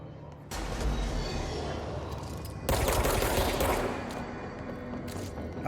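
Gunfire from the video game Control, sharp dense bursts with a loud blast near the middle, close and alone without talk.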